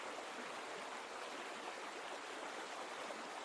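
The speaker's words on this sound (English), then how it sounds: "An underground river" Steady broadband rush of an underground river flowing through a stone cave in an adventure game, continuous and even, fairly faint with no voices.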